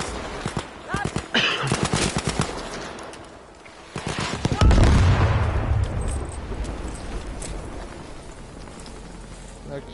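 Rapid bursts of automatic and single gunfire from the World War II shooter Battlefield V, sharp cracks clustered early, then a heavy explosive rumble that lingers, with a voice talking over the action.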